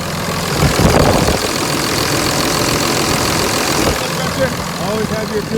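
A Cummins common rail diesel engine, part of a 2006+ conversion with a custom TIPM, idles in a steady, even rumble. The sound is close and loud, with faint voices in the background.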